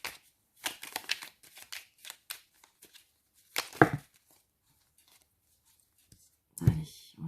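A tarot deck being cut by hand gives close, papery riffles and soft slaps in short bursts, with quiet gaps between them and one more flurry near the end.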